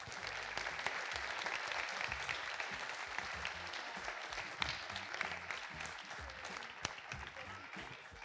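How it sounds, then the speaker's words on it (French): Tech conference keynote audience claps steadily, a broad wash of applause that stays even throughout, heard at a moderate distance in a large hall. "Applaudissez-les, s'il vous plaît."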